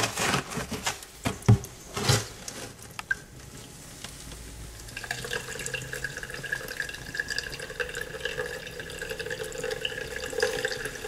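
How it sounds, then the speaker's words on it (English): Water poured and tipped out of a container after soaking incubator substrate for bearded dragon eggs, a few sloshing splashes early on followed by a steady close trickle and dripping. "And then just throw the water out."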